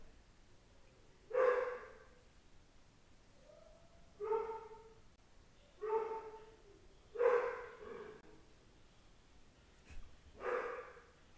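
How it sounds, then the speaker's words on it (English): Dog barking indoors in the background, five separate muffled barks spaced a couple of seconds apart, fairly faint and distant with quiet room noise and breathing-like sounds between. "You guys hear my dog barking in the background?"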